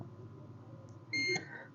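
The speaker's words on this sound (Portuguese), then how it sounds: "aqui eu vou marcando todos os componentes que vai bipando curto" Short, high electronic beep from a multimeter's continuity test while probing components for a short on a mobile phone circuit board, one brief tone over faint background hum.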